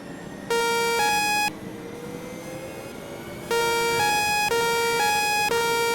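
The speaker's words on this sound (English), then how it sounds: "It's still making a horrible alarm sound." Loud electronic alarm beeping in a steady tone in a flight simulator game aircraft that fails to start, sounding for about a second, pausing, then resuming in repeated pulses over a low mechanical hum.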